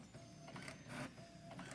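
A Brother MFC-J497DW inkjet printer runs a two-sided copy, giving a steady mechanical whir with rhythmic carriage pulses and soft clicks, heard close up with no talking.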